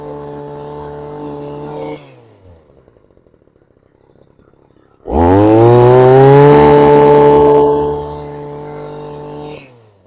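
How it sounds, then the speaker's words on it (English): A power sweep brush driven by a small weed eater engine idles with a buzzy, rattling putter, drops near silent, then revs up hard into a loud, high whine before easing back to idle. "it's basically just a weed whipper, weed eater, whatever you want to call it, engine that's given to a drive, and it spins backwards."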